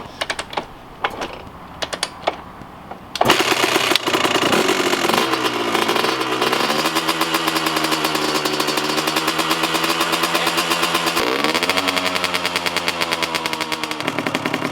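After a few sharp clicks and taps, a rebuilt Kawasaki KX125 two-stroke motorcycle engine kicks on and runs loud and close, its buzzing idle rising in short revs and settling back, then a final blip.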